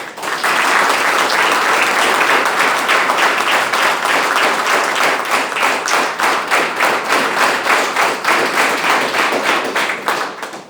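Loud, dense applause from a large audience at an Indian business opportunity launch event, steady clapping sustained for about ten seconds with no talk over it.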